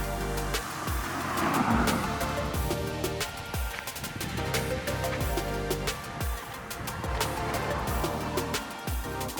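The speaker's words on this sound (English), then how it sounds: "when the turbo kicks in, oh man, it will keep kicking till the very top of the rev range" A 2023 Subaru WRX Wagon's turbocharged engine pulls hard under acceleration, a loud, sustained rising drone with road and wind noise close around it and no talking.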